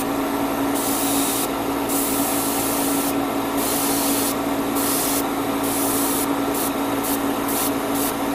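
Airbrush or spray can laying a light coat of paint on armor parts for a 1/144 HG MS Leo Gundam model, a steady close hiss broken by several short bursts, with no talking.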